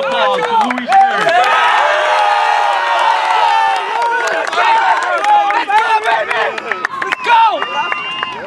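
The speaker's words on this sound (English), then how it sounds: "please give a round of applause to Louis Spears" A championship crowd at a CSAC basketball title celebration roars, cheers and applauds steadily for the tournament MVP, a Centenary College forward. The noise is dense and sustained, with shrill whoops and whistles riding on top.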